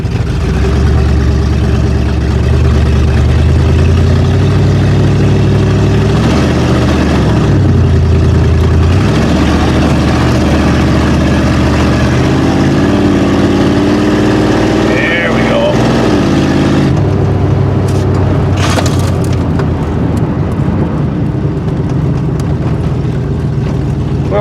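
A Ford Granada with a loose transmission cross member drives along a driveway, its engine droning steadily and loud while underside scraping and grinding rise and fall throughout, with a brief clatter near the end.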